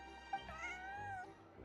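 A cat meows in Genshin Impact, one drawn-out, slightly rising and falling mew that sounds close and clear, with no talking over it.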